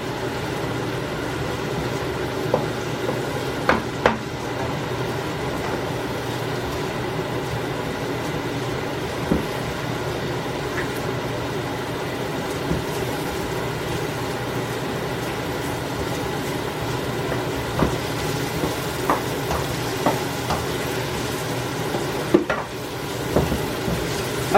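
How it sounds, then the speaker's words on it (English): Shrimp gumbo is stirred in a pot, giving a steady low simmer and bubbling with scattered scraping clicks of the spoon against the pot, close and continuous. "So just continue to stir for 1 minute."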